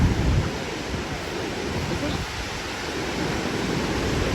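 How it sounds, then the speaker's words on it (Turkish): The Chum Chum waterfall near a village gives off a continuous, even rushing roar, a dense wash of falling water with no breaks. "Waterfall yani şu şelalenin ismi Çum Çum Waterfall diyorlar."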